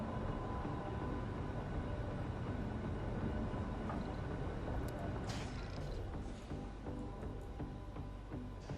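Low rumbling of a train arriving on Mars in the video game Surviving Mars, a steady heavy mechanical roll with a brief clank and hiss partway through.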